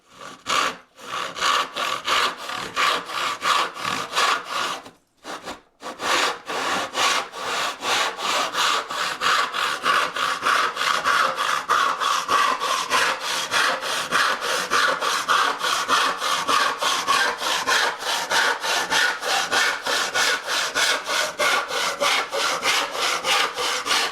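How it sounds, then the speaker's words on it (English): A large tenon saw cuts through wood from a knife wall, its rapid even strokes rasping back and forth in a steady rhythm with one brief pause early on, close and clear with no talk. "I've got my bigger tenon saw, and I just put it in that knife wall that I started and cut away"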